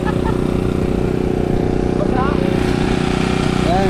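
Generator engine running while charging, a steady loud mechanical drone with a low throb, heard up close under people talking.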